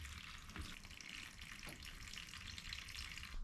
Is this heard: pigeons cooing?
no